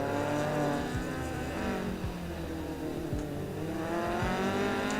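A Toyota 4A engine in a touge racing game on the Fujimi Kaido course, revving high and steady near the listener, with brief dips at each gear change and a continuous tire-and-wind roar beneath it.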